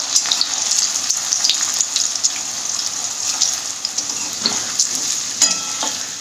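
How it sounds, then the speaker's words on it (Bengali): Chickpeas (chana) fry in hot oil, a steady bright sizzle and bubbling with crackling pops scattered throughout, close and loud with no talking. "তেলটা গরম হয়ে গেছে, এবার আমি চানাগুলো দিয়ে দিচ্ছি"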